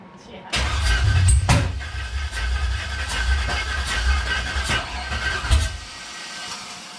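A car engine cranks and stutters, trying to catch, in a loud, uneven run of turnover bursts close by, with people talking over it in a shop.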